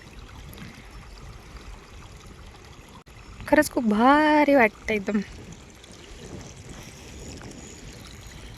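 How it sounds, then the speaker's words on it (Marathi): Small mountain streams run steadily, trickling and splashing throughout, with a person speaking briefly over them in the middle. "छोटे छोटे पाण्याचे झरे"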